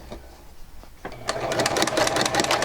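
A sewing machine stitches reflective tape onto a canvas jacket, starting with a few faint clicks, then a steady close rattling run of rapid stitches.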